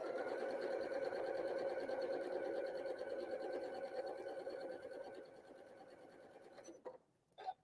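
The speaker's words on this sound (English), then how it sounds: "And we'll sew right across." A sewing machine runs continuously through a quilt block seam, a steady close whirring stitch that slows and stops near the end, followed by a couple of brief clicks.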